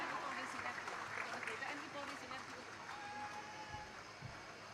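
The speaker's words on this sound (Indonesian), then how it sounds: "Beri aplaus yang meriah." An audience at a police parachute show for the Bhayangkara anniversary keeps up dense, continuous applause from a distance, with a voice talking over it.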